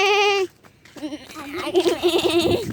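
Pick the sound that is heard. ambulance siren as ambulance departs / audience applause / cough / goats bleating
goats bleating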